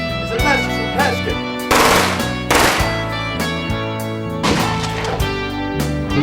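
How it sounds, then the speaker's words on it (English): Gunfire in a mobster film scene, with several sharp shots ringing out over a loud, sustained musical score, some heavier blasts standing out among the tones. "He starts shooting his gun."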